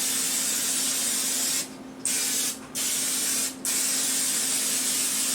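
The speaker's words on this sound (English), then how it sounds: "Spray the pan." Cooking oil sprayed onto a pan before frozen Brussels sprouts go on, three separate hissing bursts of the aerosol can, the first longest, each close and crisp over a steady low hum.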